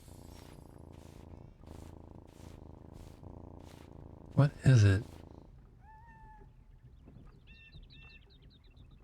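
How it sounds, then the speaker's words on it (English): A cat hiding under the stairs in a video game purrs and gives a few short, rising meows after a brief loud burst, with a person talking over the first half. "There's definitely a cat under the stairs."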